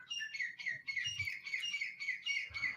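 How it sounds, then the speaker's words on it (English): Birds singing outdoors: a bright, repeating run of whistled chirps, fairly loud and continuous, with faint low rumbles underneath and no voices. "Yep, the birds are gorgeous. Oh, I'm glad you guys can hear it. It does get kind of loud."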